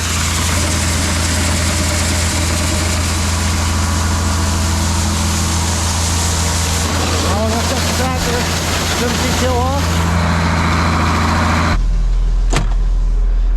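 A diesel engine idles, left running with a steady low rumble close by, before a brief clunk near the end, after which the deep idle carries on.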